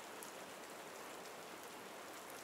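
Steady, dense rainfall pours into a stone archway setting, an even broadband hiss with soft scattered droplet patter, continuous and moderately loud with no voices.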